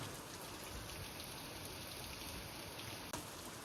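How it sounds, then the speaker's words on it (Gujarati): Steady rain falls in a Gujarati village in the morning, a faint, even hiss of drops with no voices and one brief knock near the end. "અને થોડોક વરસાદ પણ વધી ગયો છે"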